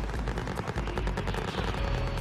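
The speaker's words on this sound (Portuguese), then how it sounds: "Eles estão tomando tiro." Rapid gunfire from Call of Duty Warzone crackles in dense, continuous bursts of automatic shots, loud and close, with no talk over it.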